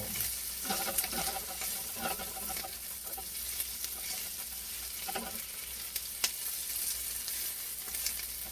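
Garlic sizzling in a pan as it is stirred, steady crackling hiss with occasional clicks and scrapes of the utensil close by.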